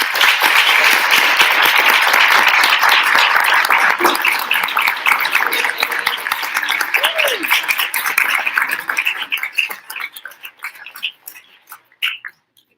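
Audience at a morning pancake breakfast event applauding award recipients, loud and dense at first, then thinning into scattered individual claps that trail off toward the end.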